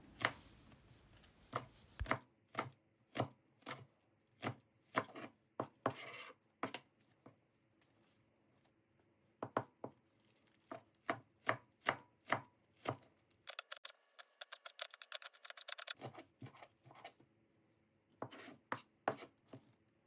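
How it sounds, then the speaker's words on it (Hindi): Knife finely chopping the white part of spring onions on a board, close and crisp, in quick bursts of rhythmic taps separated by short pauses. "स्प्रिंग अनियन के वाइट पार्ट को हम बारीक बारीक काट लेंगे"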